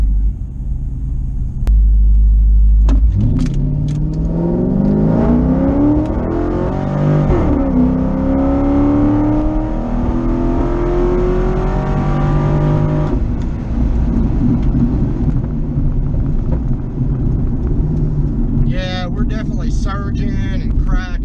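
A C5 Corvette running on nitrous revs hard and surges, its engine note climbing and falling with rough popping and crackling, loud and close, while someone talks over it.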